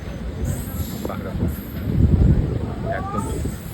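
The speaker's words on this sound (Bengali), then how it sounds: "আর আজকে আমরা ট্রেনে ট্রাভেল করছি।" Inside the Dooars Queen train, a low rumble rolls along the rails while people talk close by. The carriage noise swells midway, then settles.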